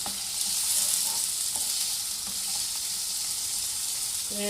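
Three medium onions frying in hot oil toward golden brown, a dense, steady sizzle that fills the whole stretch, with a few faint clicks of a spoon against the pan and no talking.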